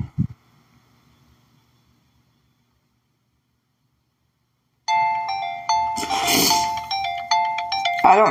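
A phone rings with incoming calls from many different numbers: a bright electronic ringtone melody starts after a long near-silent stretch and repeats loudly and steadily to the end, with no talking.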